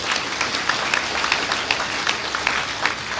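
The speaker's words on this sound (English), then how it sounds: "Can you give our institute a round of applause?" An audience at a membership induction ceremony gives a round of applause, a dense, fairly loud patter of many hands clapping continuously with a few sharper claps standing out.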